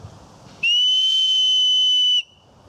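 A self-made high-volume whistle blown with the fingertips sealing its hole gives one loud, steady, shrill tone held for about a second and a half, close by, with quiet room noise before and after.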